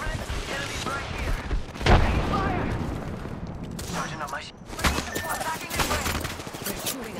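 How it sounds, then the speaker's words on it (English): Gunfire during an Apex Legends match, with dense, continuous bursts of rapid shots, loud and close, mixed with game effects and a voice talking over the fight. "They're shooting at me."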